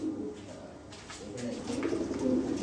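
Black Lahori pigeon cooing softly nearby, a few low throaty coos rising toward the end of a quiet moment.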